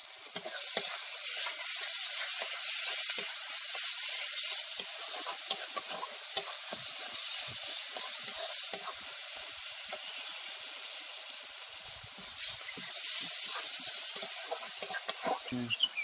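Spice masala with cumin powder frying in a pan for a fish kofta curry, a steady bright hiss of sizzling oil with scattered crackles and scraping stirs, close and continuous with no talk.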